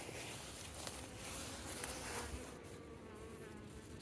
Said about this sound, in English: There's lots of bees.